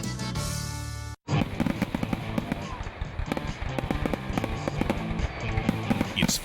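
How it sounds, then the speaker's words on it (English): Fireworks sound effect in a radio ad for a fireworks night at a River Bandits baseball game: dense, rapid crackling pops and bursts that run loud and continuous after a brief gap near the start. "It's Fireworks Friday,"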